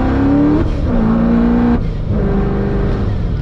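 A Corvette Z06 (Gen V, Holley EFI port injection) engine revs hard at about half throttle, loud and close. The engine note climbs, holds and falls back across two strong pulls with no talk.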